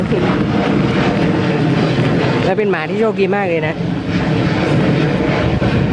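An airplane passes overhead with a loud, steady roar that fills the whole clip, while someone talks in Thai over it during an outdoor run.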